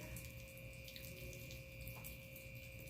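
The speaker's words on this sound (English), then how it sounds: "I'm going to add a little bit of distilled water." Distilled water being added to a homemade craft mixture, a faint continuous running-water sound with a light steady flow and no talking.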